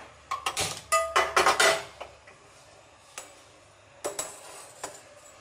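Metal cookware clanks against a stovetop, with a burst of sharp clatters early on and a few more isolated knocks later, fairly close and quiet, with no talk.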